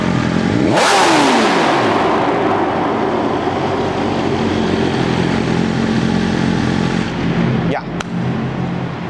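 A BMW S1000RR sport motorcycle engine fires up on a cold start and is revved hard, a loud, close, steady high-pitched roar with a sharp rising sweep early on and a brief throttle blip near the end.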